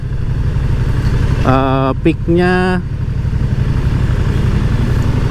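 A Moto Guzzi V100 Mandello Aviazione Navale hums with a low, steady engine drone while riding in an economy mode limited to about 70 km/h, and someone briefly speaks over it.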